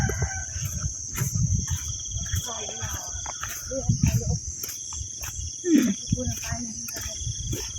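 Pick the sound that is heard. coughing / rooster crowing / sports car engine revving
rooster crowing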